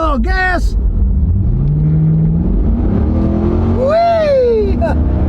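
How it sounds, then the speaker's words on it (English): A car engine revs up loud and close as the car accelerates, with rising and falling pitch sweeps and voices talking over it. "We'll give it a little gas."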